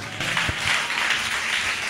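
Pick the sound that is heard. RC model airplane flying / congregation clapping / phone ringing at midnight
congregation clapping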